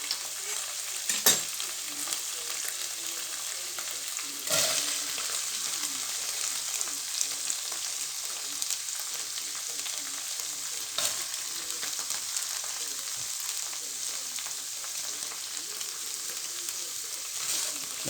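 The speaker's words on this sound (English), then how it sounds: "you want that to coat the shallots, and the shallots to start to cook down and start to soften up" Shallots fry in olive oil and Thai red curry paste, giving a steady, fairly loud sizzle with stirring scrapes and a few sharper spatters throughout, and no talking.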